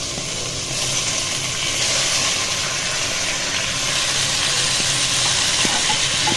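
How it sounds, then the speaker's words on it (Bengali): Boiled pasta is tipped into a pan of fried vegetables, and a loud continuous hiss and sizzle of hot oil carries steadily throughout. "সবজিগুলো ভাজা হয়ে গেছে, এবার আমি সেদ্ধ করে রাখা পাস্তাটা ছেড়ে দেবো"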